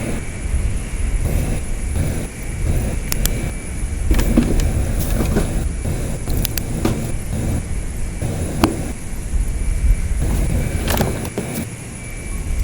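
An airliner's engines roar steadily through a takeoff roll in Microsoft Flight Simulator 2020, a continuous broadband rumble with a faint high whine above it, holding loud and even throughout.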